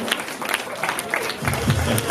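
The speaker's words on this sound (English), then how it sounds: "Give a big round of applause to the Kambala family." Crowd clapping at a family graduation celebration, a brisk mass of hands with some voices rising beneath it in the second half.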